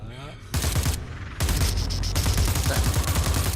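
Rapid bursts of weapon fire from a first-person sci-fi horror game in PlayStation VR, loud and dense, starting after a quieter opening and continuing in clustered volleys with a brief lull.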